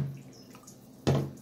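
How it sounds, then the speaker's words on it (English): A cup of water is dumped onto a cleaning cloth laid flat, giving a short close wet splash after a quiet moment of low hum. "I'm gonna dump the whole water"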